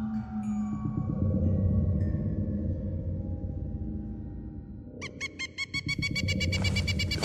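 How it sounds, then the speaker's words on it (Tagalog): A strange bird calls at night, squeaky drawn-out cries giving way to a rapid run of sharp pulsed squawks, heard over a low background drone. "nagising na lamang ako nang may marinig na kakaibang huni"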